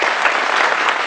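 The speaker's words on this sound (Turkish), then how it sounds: "kendilerine bir alkış rica ediyorum" A burst of crowd applause, dense steady clapping from many hands filling the whole moment.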